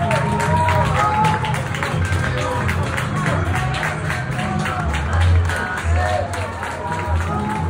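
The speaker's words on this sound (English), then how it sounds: "It's people cheering." People on surrounding balconies cheer and clap together at the start of an 8 p.m. curfew, a sustained, echoing din of claps and shouts heard from a balcony, with a nearby voice talking over it.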